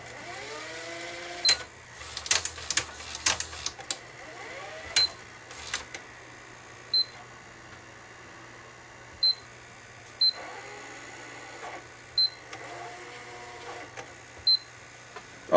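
Sony SLHF2100 Betamax VCR, one of the last made, working its loading mechanism: a burst of mechanical clunks and whirs early on, then sharp isolated clicks every second or two, close and clear with no talk.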